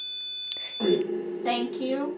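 A REM pod ghost-hunting device at the Shanley Hotel sounds a high, steady electronic alarm tone. Voices talk over it as it continues through the whole stretch.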